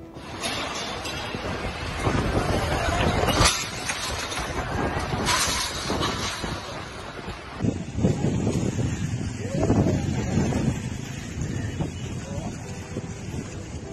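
Strong wind from Cyclone Biparjoy, 170 km/h, in India and Pakistan roars and buffets the microphone continuously, with heavy gusts rising and falling and a loud rumbling surge partway through.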